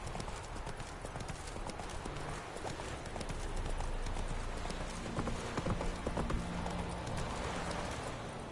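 Horse galloping in The Witcher 3, a rapid continuous clip-clop of hooves, close and steady for the whole stretch, with faint voices now and then beneath.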